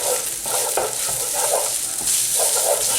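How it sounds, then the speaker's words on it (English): Three cloves of crushed garlic sizzle in a hot pan while being stirred, a continuous close frying hiss broken by repeated scraping strokes of the spoon. "I've crushed 3 cloves of garlic, and that's going in. So just start mixing that."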